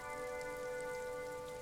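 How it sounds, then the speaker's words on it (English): Steady rain falls in sheets over open water in Disco Elysium, a constant soft hiss that holds even and unbroken throughout, with a low, sustained tonal drone running underneath it. "Sheets of rain over the water."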